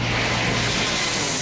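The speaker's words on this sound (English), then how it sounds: "there's another plane over there" An airplane passes overhead outdoors, a steady broadband engine roar that stays loud and even through the whole moment, with no talking.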